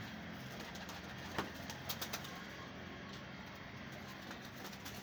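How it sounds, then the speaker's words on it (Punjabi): Ferozpuri pigeon cooing on a rooftop pigeon show, soft low calls over a steady noisy background with a few brief wing or tapping sounds. "ਇਹ ਦਾਦਾ ਕਬੂਤਰ ਹੈ"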